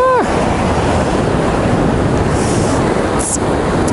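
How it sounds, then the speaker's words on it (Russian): Large sea waves breaking on a pebble beach at Chkalovsky beach in Adler, Sochi, a loud continuous rushing surf close by with strong wind buffeting the microphone. "А вот уже волны идут достаточно большие"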